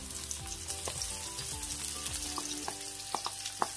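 Garlic and onion sauté in a hot pan with a steady, close sizzle, broken by occasional stirring scrapes and soft clinks.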